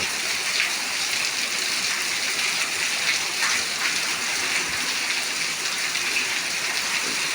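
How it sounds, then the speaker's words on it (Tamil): Steady rain pours down continuously, a dense even hiss of drops hitting surfaces with no pauses, close and fairly loud. "மழை பாருங்க"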